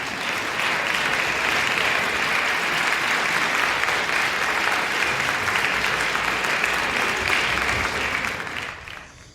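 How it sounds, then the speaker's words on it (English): A large audience applauds Pennywise in a long, dense, steady roar of clapping that holds evenly and then tapers off near the end. "How about a round of applause for"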